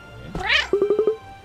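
A cartoon cat meows in the video game Cat Quest: one rising, drawn-out meow, then a quick run of five short, evenly spaced chirping mews, close and clear.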